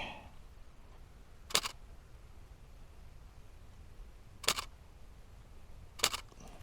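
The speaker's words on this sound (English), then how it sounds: "The R7 has kind of a nasty shutter sound" Three sharp shutter clicks from a Canon R7 camera spaced a few seconds apart, close and distinct over a quiet background hiss.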